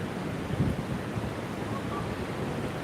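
Cold wind blowing steadily outdoors on the Blackpool seafront, a continuous rushing roar buffeting the microphone with surf-like low rumble throughout, no voices.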